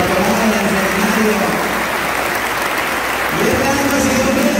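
Loud, sustained applause fills a church during Sunday Mass as seminary students are honored, a dense steady clapping wash that dips briefly before swelling again, with voices mixed in.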